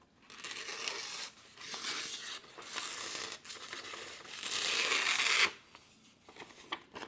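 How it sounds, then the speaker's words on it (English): Chef's knife slicing through paper, producing a run of close, crisp crinkling and tearing rasps in several bursts, the longest near the end, then quiet with a few small rustles. "take our chef's knife here, which is what we're gonna be using today. And just, it should effortlessly cut through this."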